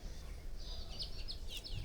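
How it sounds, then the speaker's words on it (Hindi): Faint, high chirps from small birds in the distance near hills, heard from a flat in Mumbai, a few brief calls over a low steady background hum. "पीछे जो है पंछियों की चहचहाहट"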